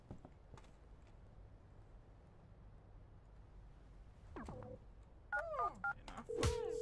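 A phone in the video game Schedule 1 plays a quiet run of short tonal beeps, like keypad dial tones, followed by a longer steady tone, all over faint background hiss.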